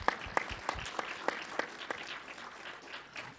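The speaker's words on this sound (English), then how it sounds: "Let's give them a round of applause, you all." At an education panel discussion, a small audience applauds school board members in the room: a handful of distinct, fairly rhythmic hand claps that stand out near the start, then thin out and fade into softer scattered clapping.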